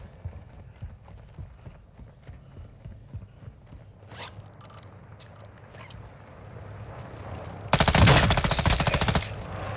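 Bursts of automatic gunfire crackle loudly in a Call of Duty Warzone 2.0 DMZ match, a sustained volley erupting late after quieter scattered shots and clatter, with faint voices underneath.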